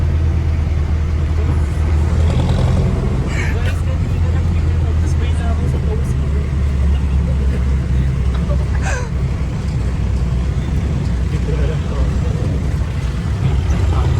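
Riding inside a jeepney around UP, a loud, continuous low engine and road rumble fills the ride, with occasional faint clatters and passengers talking over it.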